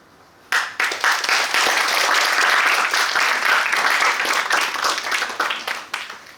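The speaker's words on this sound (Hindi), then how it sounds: "ताली।" A lecture hall audience breaks into applause during a session, the clapping starting abruptly after a brief quiet, then holding as a thick, loud ovation of many hands before thinning toward the end.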